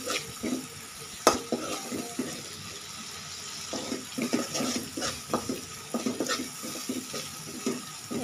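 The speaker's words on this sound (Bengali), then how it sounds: "এগুলো ভালো করে কষিয়ে নিতে হবে, যাতে করে পেঁয়াজটা কাঁচা কাঁচা ভাব না থাকে।" Onions, green chilies and two bay leaves sauté in a pan for a bitter gourd fry, with a soft sizzle under irregular scraping and stirring clicks of a spatula, close and fairly quiet.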